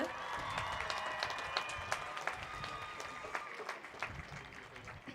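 At a high school graduation ceremony, a large crowd applauds steadily, a thick layer of clapping with scattered cheers and whistles, some voices mixed in throughout.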